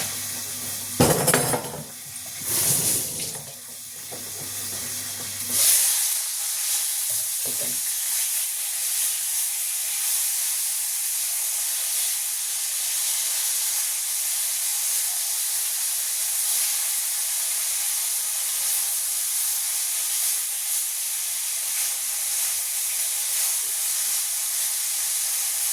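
Fried chicken cooking in a covered pan on a home stove, a constant bright sizzle and hiss of hot oil steadily filling the air after a few clanks of the lid and pan at the start.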